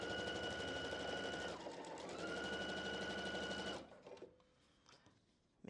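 A sewing machine stitching pieced quilt fabric, a fast steady whirring run close by that briefly slows and then resumes before stopping, followed by quiet handling noises.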